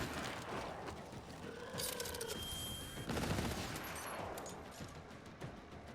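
Rapid gunfire from a video game gun, a dense, continuous burst of loud shots with sharp bangs sustained across the whole stretch, no talking over it.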